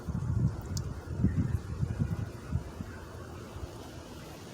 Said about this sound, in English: The wind blowing, y'all.